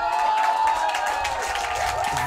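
Spectators cheering and clapping at an ultimate frisbee match, the EUC 2015 open pool game between Russia and Switzerland, a sustained roar of crowd noise with a commentator talking over it.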